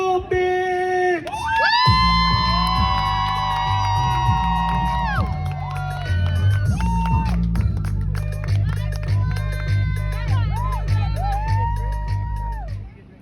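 Comedy show audience in Salt Lake City cheering and whooping loudly alongside blaring walk-on music with a heavy beat, a sustained roar from the crowd with scattered claps throughout.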